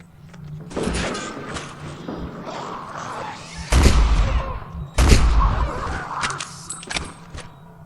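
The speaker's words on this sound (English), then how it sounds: "that shotgun sounds pretty badass" Shotgun blasts in the video game Condemned: Criminal Origins, two heavy booming shots a second apart amid loud, cluttered game noise with scrapes and clatter, close and forceful.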